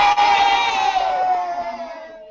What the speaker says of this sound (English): Give us a wave and a cheer in your classrooms if you did.